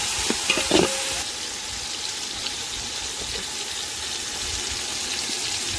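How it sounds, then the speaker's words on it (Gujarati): Chopped onion sizzles in hot oil as the tempering for a moong bean curry, a steady broadband hiss with a few clinks of stirring near the start, close and continuous with no talk. "તેલની અંદર ડુંગળી કાપીને નાખી દીધી છે"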